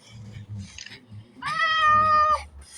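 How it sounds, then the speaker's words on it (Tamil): A cat lets out a single long, loud meow close by, drawn out for nearly a second, after a stretch of quiet background noise and some low voices. "இந்த பூனை ஏன்டா இப்படி வந்து"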